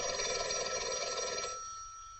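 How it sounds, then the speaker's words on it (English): A telephone bell rings steadily in a 1952 comedy scene, a continuous bright metallic trill that is loud for about a second and a half and then cuts off, leaving a quiet room. "Your phone's ringing."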